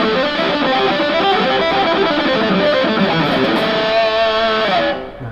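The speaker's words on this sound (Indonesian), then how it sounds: "ketika kita nggak pakai palm mute itu suaranya seperti ini teman-teman" A distorted electric guitar plays a ringing, sustained lick without palm muting, notes bleeding into each other, loud and alone, fading out at the end.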